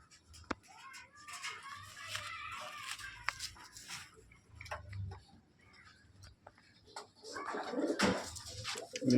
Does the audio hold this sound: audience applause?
no